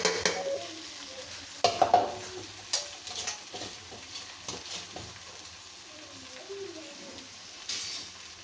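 Ingredients tossed into a frying pan and stirred through, a soft sizzle beneath scattered scrapes and clinks of a utensil, with a few sharper knocks early on and quieter steady stirring after.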